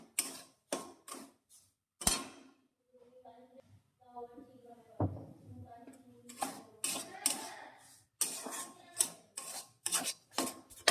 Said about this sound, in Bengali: মা এবার সুজিটা নেড়ে নিচ্ছে, হালকা করে সুজিটা নেড়ে নেবেন কড়ার মধ্যে